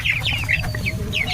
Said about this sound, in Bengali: কারণ দেখে দেখো মুরগিগুলো কত বড় বড় হয়ে